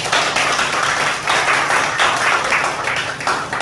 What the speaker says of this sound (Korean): 이경영 씨 일단 박수 한번 보내주세요